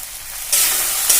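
Spice masala with salt, turmeric and sugar frying for mutton kosha, a quiet hiss that suddenly swells into loud, close sizzling as it is stirred, with another brief surge near the end.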